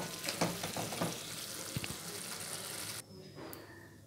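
Pointed gourd curry with sesame seeds cooks in a pan, a steady close sizzle with stirring scrapes that drops to a quieter simmer once a lid goes on.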